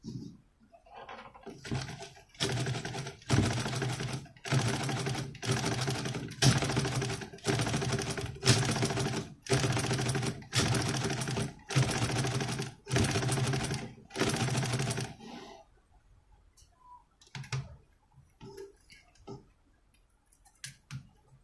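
A sewing machine stitching cloth runs in rapid, loud bursts of rhythmic clatter, roughly a dozen short runs with brief pauses, then stops, leaving only faint handling sounds near the end.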